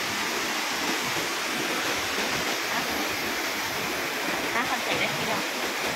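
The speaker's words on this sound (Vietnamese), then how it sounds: "thác chảy đấy" A waterfall pours in a steady, dense roar of rushing water, loud and constant from start to finish with no other sound standing out.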